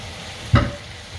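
A single quick stir of onions and tomatoes with small kachki fish in a pan, one short scraping swish over a faint background hiss.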